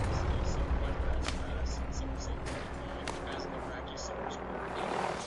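A helicopter in the Call of Duty Warzone video game drones with a continuous rotor roar under dense battle noise, with occasional sharp cracks and a rumbling low end throughout.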